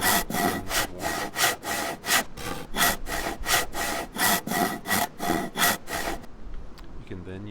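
A handsaw cuts through wood in DayZ with about a dozen brisk, evenly spaced back-and-forth strokes, loud and close, which stop abruptly near the end.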